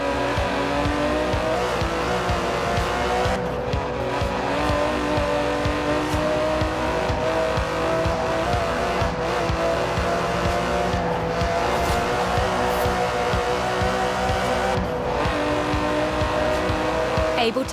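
An Aston Martin DB11 with a 5.2-litre twin-turbo V12 in the Forza Horizon 4 racing game drones loudly and steadily, with bursts of revving and tire squeal on hard cornering.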